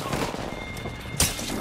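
Gunfire in the battle royale shooter Apex Legends, a dense continuous rattle of shots with a sharper loud burst near the end, close and steady throughout.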